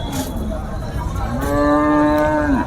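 A cow gives a long, loud moo close by at a weekly cattle market in Mudkhed, over a busy background of crowd noise and chatter.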